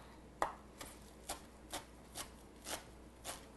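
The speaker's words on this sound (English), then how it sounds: "I'm going to use about 2 tablespoons of flat leaf parsley. Let's just get this chopped up real fast." Knife chopping flat leaf parsley on a cutting board, a quick rough chop: about eight sharp, evenly spaced taps, faint and close, with nobody talking.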